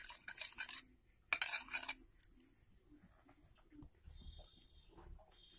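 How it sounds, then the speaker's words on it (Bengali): Eggs beaten with a little salt in a bowl in a village-style kitchen, two short bursts of rapid clinking and scraping followed by quieter, scattered kitchen sounds. "ডিমগুলো আমি ভেঙে নিয়ে এর মধ্যে এবার লবণ দিয়ে আমি ফেটে নেব।"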